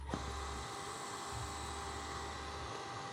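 A Shimizu water pump motor, previously only humming because of a capacitor fault, starting up and spinning with a steady high whining drone and a low hum that run continuously and close by.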